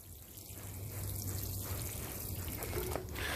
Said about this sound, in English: I'm going to dump in another 2 gallons of water